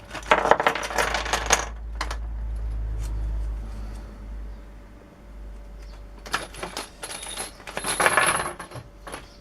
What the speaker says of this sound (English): We've got an assortment of bits of bolts and stuff.